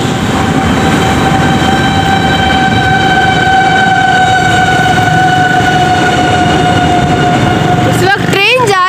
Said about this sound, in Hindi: इस वक्त ट्रेन जा रही है, आवाज़ आई है 18 डाउन मिल्लत एक्सप्रेस जा रही है